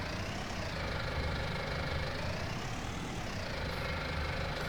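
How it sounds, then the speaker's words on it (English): A Stockman tractor engine idles steadily with a low, even mechanical drone, close and continuous with no pauses. "That's a Stockman tractor."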